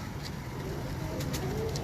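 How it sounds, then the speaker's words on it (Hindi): Breeder pigeons coo softly in a low, steady murmur with a few faint higher chirps, heard at a moderate distance amid constant background noise. "ये ज़रा लोगों को दिखाएं कि किस तरह के कबूतर हैं।"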